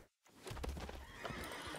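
A horse whinnies in the Magic: The Gathering Arena digital card game, a bright neigh rising after a brief silent gap and ringing on for over a second, loud and alone with no voices.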